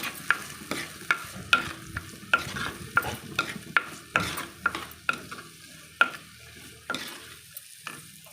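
Masala sautéing in a pan for Kerala-style fish curry, stirred with a spoon that clinks sharply against the pan in a steady rhythm about once a second over a soft sizzle, close, no talk.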